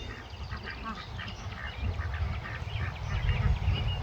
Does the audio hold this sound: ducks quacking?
yes